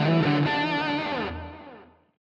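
A short burst of distorted electric guitar rings out loud and close as a single sustained phrase, then fades away in about two seconds.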